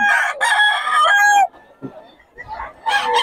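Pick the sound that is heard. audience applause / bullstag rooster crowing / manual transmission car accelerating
bullstag rooster crowing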